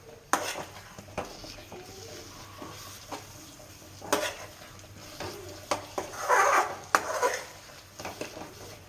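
Eggs for egg bhurji are stirred in a pan, with a spatula tapping and scraping the metal in irregular strokes over a faint background hum.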